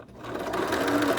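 A sewing machine stitches pleats into a fabric face mask, its motor whirring steadily and close up through the short burst with no talking.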